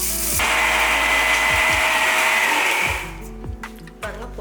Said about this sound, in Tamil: இந்த மிக்ஸி வந்து நமக்கு பொடி அரைக்கிறதுக்குன்னே வாங்கி வச்சுருக்கேன்.